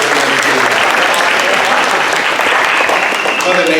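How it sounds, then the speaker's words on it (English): A housing summit audience in Salinas, California gives loud, continuous applause for nearly four seconds, with voices mixed into the clapping. "Big round of applause for all of you making it in this morning."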